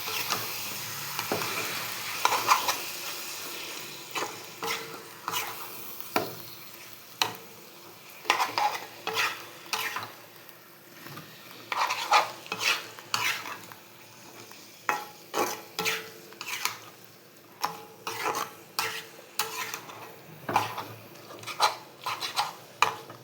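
A spatula stirs and presses a spice masala of tomato and Kashmiri chili powder frying in a pan, giving repeated scraping strokes in a steady rhythm over a soft sizzle, close by and without talk.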